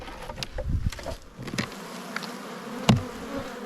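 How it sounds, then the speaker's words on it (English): Honey bees buzz close by around a hive in a steady drone, with individual insects zipping past and a few sharp taps. "Plenty of bees in the bottom box. Real feisty."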